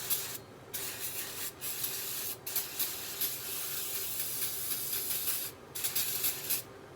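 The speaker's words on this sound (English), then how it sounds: "take your starting fluid or brake clean and" Brake cleaner or starting fluid sprayed onto a power steering pump pulley on a 2010 Honda Pilot, heard as several loud, close hissing aerosol bursts of varying length with short pauses between them.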